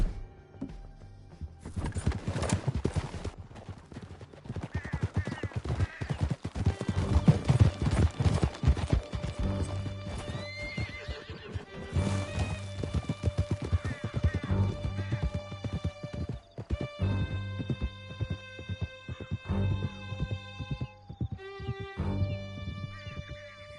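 Several horses gallop at speed in Red Dead Redemption 2, with rapid hoof clatter, occasional whinnies and gunfire-like cracks through a steady, loud stretch, and tonal game music rising near the end.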